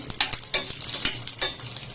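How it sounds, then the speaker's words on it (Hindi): Mustard seeds and chillies crackling and popping in hot oil for a dhokla tempering, a steady sizzle broken by four or five louder bursts, close up. "जो फड़फड़ की आवाज है ना, वो तड़का को तड़का बना देता है।"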